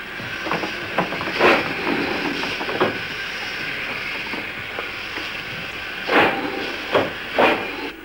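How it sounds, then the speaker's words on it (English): An old steam engine on a preserved railway line hisses continuously, with sharp bursts of steam and mechanical clanks breaking through at uneven intervals, close and fairly loud. "Old steam engines."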